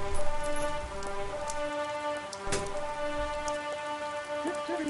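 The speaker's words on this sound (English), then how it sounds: "Oh, it's raining." Steady rain patters on surfaces in The Guild 2: Renaissance game, a dense even hiss with soft droplet taps and a faint tonal ambience underneath, no voices.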